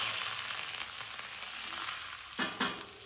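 Mustard seeds, cumin, asafoetida and curry leaves sizzle steadily in hot oil for a Gujarati breakfast, a continuous frying hiss with a sharper burst of spluttering near the end as leaves hit the oil.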